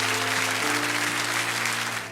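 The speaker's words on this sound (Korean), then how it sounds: "우리 한 번 더 큰 박수로 축복합니다." A church congregation at a Christmas service breaks into a full, dense round of applause, many hands clapping steadily over a sustained organ or keyboard chord that holds underneath, fading slightly at the end.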